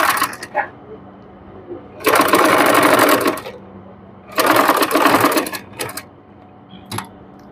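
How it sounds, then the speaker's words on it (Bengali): Sewing machine stitching close along a fabric edge while altering a dress neckline, two loud sustained whirring runs of about a second and a half each, with brief clicks and handling noises between them. "এরকম করে আমি যেরকম ভাবে বসিয়ে একদম কিনারা দিয়ে সেই সেলাইটি দিয়ে নিচ্ছি।"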